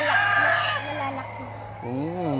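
A small gamecock of a fine fighting breed crows at a backyard farm, the call rising and falling in a drawn-out cry near at hand while someone talks over it.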